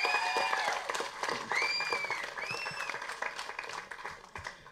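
Audience applause fills the hall at the Araathu film trailer launch, a steady dense clapping with some crowd noise that carries through the whole stretch and fades slightly toward the end.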